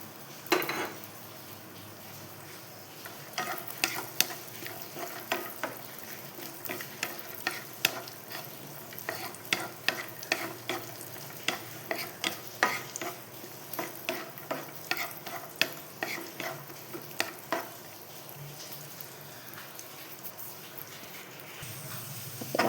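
Cashews and raisins fry together in a pan while a utensil stirs them, giving a steady low sizzle broken by frequent sharp scraping clicks against the metal, close and fairly quiet, with no talking.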